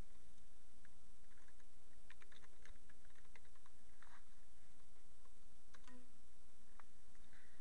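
Faint, quick keystrokes on a computer keyboard tap out a short name for a layer in graphics software, clustered in a brief flurry over a steady background hiss.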